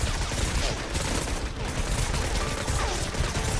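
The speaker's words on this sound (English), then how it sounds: "oh, that's a shotgun" Shotgun fire in the mobile strategy game Girls Frontline, a loud, continuous barrage of overlapping gunshots with steady intensity across the whole stretch.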